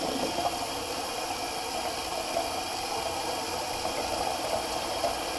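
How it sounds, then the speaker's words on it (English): Tap water runs steadily into a sink to rinse a Rockwell 6C safety razor, a constant hissing rush close by with no voices. "Just gotta rinse my razor real quick."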